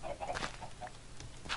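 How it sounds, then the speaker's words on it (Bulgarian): Chickens in a Minecraft survival game give soft, scattered clucks, several short calls spread across a couple of seconds at low volume. "Тук малко кокошки има и яйца."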